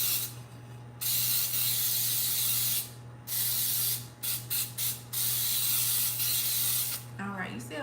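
Cooking spray hissing from an aerosol can onto a cake pan for an eggnog pound cake, loud close bursts of about two seconds each, then a few short spurts and a clicking nozzle.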